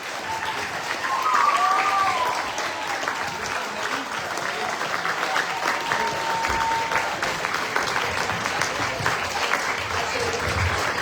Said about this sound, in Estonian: nüüd 2 või 3 korda suurem aplaus läheb